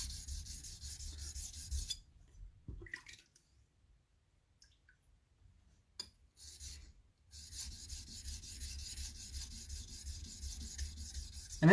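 Sharpening stone rubbed diagonally along a blade bevel, a steady gritty rasping in two long passes separated by near silence and a few small clicks, close and moderately quiet with no talking.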